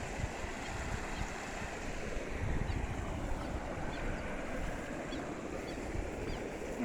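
Heavy water rushing down a reservoir spillway into a waterfall after strong rains, a steady broadband roar with wind on the microphone, continuous and unbroken throughout, with no speech.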